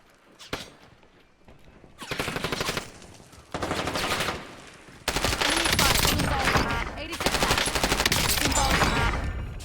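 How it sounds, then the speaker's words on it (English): Gunfire in the Warzone battle royale game, an isolated early shot followed by long rapid automatic bursts growing louder and denser, with little talk over it. "Incoming shots."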